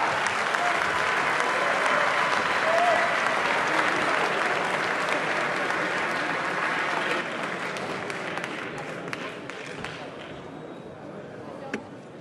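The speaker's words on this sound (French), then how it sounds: "Applaudissements." An audience at a pro-Brexit evening gathering in London applauds a guest economist, sustained dense clapping from a sizeable crowd that holds strong for several seconds before thinning out.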